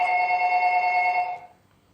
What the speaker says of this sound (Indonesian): suara telepon berdering yang membuat mereka berdua kaget